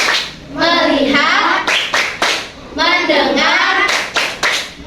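A classroom plays the tepuk fokus clapping game: children chant and clap in sharp, rhythmic bursts, with short groups of claps between sung lines, recorded close and loud.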